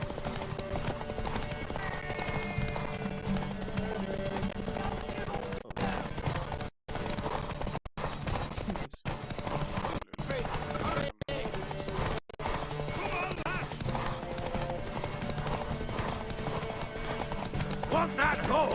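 Horse hooves galloping in The Witcher 3, a steady rhythmic clip-clop that runs through most of the clip, mixed under game music and voices, with a few brief dropouts in the middle.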